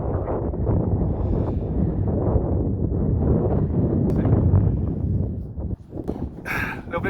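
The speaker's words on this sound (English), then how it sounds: "A little bit windy today." Wind buffets the microphone at the top of Peel Tower on a hilltop, a loud, continuous low roar that eases briefly near the end.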